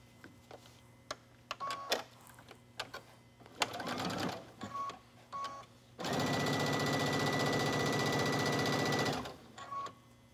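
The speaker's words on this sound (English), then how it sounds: "Go ahead and sew the seam in a color that matches the fabric." A home sewing machine stitches a seam on a tank top: short bursts of whirring at first, then a steady three-second run of fast, even stitching up close, with a few clicks and pauses around it.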